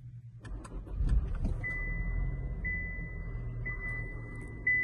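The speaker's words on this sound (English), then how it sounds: "So we're gonna put our foot on the brake and give it a start." A 2024 Buick Encore GX starting up: the engine cranks and catches, then settles into a quiet steady idle, with a faint electronic chime repeating in the cabin.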